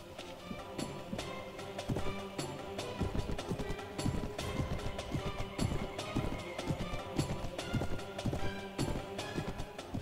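Galloping horse hooves in the Mount and Blade Warband video game pound in a fast, steady clip-clop rhythm that carries all the way through, loud and close, over busy background game sound.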